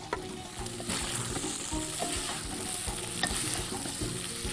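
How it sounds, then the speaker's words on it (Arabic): Food sizzling and being stirred in a hot pan, likely meat for shakreya, with a steady frying hiss and repeated clicks and scrapes of a utensil, close up and alone without talk. "هشوح كده"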